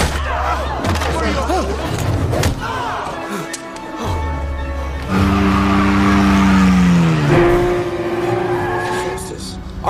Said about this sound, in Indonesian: Setelah itu Percy mengambil mutiaranya, kemudian kabur menggunakan mobil bersama Anna dan Clover